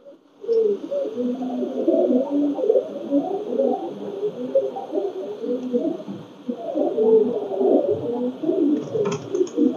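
Pakistani Teddy pigeons give continuous low, rolling coos at close range, several birds overlapping in a steady, murmuring chorus with no talk.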